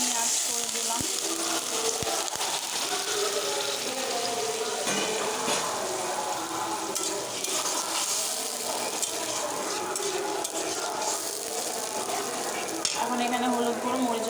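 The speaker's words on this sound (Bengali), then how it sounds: "ওই দেখছি এখন এখানে পানি অ্যাড করে দিলাম" Water is poured into a pan of ginger-garlic paste and spices while cooking desi chicken curry, giving a continuous sizzling, bubbling hiss with occasional metallic clinks and stirring.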